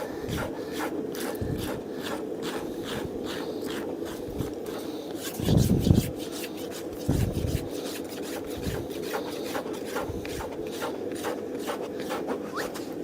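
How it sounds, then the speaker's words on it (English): A farrier rasps a horse's hoof walls, rhythmic rough scraping strokes repeating close up at a steady pace, with a few heavier thumps midway. "Again, I'm trying to limit my rasping. I don't want to come high up the walls."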